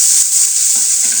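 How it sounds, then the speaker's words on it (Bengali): Winter vegetables sizzle in hot oil with black cumin seeds in a home kitchen pan, a loud, steady, close-up hiss of frying with faint stirring scrapes underneath. "এগুলোকে এখন ভালো করে ভেজে ব্রাউন কালার করে"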